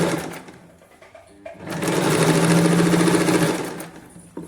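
Sewing machine stitching a katori blouse puff sleeve, with short handling noises first, then a loud, close burst of fast steady stitching that swells and fades back down.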